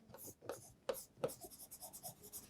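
A pen writes colour codes by hand on paper in short quiet scratching strokes that end in a rapid run of small taps, faint and close by.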